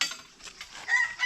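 Chickens cluck softly nearby in a short burst, a few faint clucks and calls over a quiet outdoor background.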